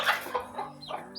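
A chicken lying down near a backyard coop gives a brief burst of quick, soft clucks, close to the microphone and fairly quiet.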